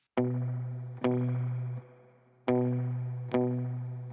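Four plucked electric guitar chords through an amp simulator, with distortion and a touch of echo, each struck sharply and left to ring, with a short pause in the middle.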